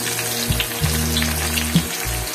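Onion with bay leaf and cinnamon frying in hot oil for mung and masoor dal bhuna, a loud, dense, continuous sizzle heard close up with faint stirring scrapes and no speech.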